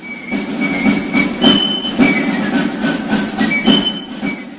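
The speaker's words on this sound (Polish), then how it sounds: "że pociągu dawno nie było, ale znowu przyjeżdża" A train pulls in as a played sound effect, its wheels beating a loud rhythmic clatter while high squeals and screeches ring out repeatedly over the rumble.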